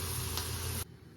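Corn batter deep-frying in hot oil, a dense bright sizzle that cuts off abruptly, leaving faint low background.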